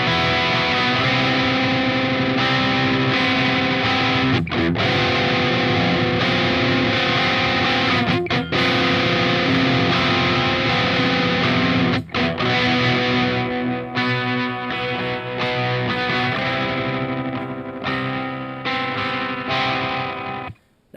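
Distorted electric guitar run through effects pedals, playing a chord part from a song with palm muting and deadened strings, loud and continuous with brief muted breaks, ringing out alone for about twenty seconds.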